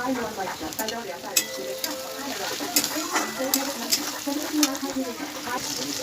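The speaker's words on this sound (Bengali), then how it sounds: "আর আমি এখানে পেঁয়াজটাই দিয়ে দেবো, চিনি দিয়ে দেবো, কেটে রাখা টমেটো।" Onion, sugar and chopped tomato fry in a pan for a rice and meat dish, giving a constant close sizzle with stirring scrapes and clinks, while a voice speaks quietly over it.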